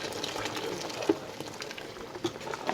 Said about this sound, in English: So we'll add some more water.